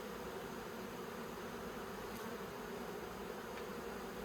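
A swarm of honeybees buzzing steadily as a faint, even drone, continuous and somewhat distant, with no voices.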